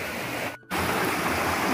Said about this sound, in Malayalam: ഒരു ഡാം ഇങ്ങനെ കെട്ടിയിട്ട് ഇതിൽ കൂടെ ഇങ്ങനെ വെള്ളം ഫ്ലോ